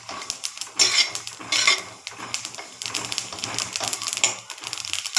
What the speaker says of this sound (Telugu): వేసి కొంచెం ఫ్రై చేయాలి.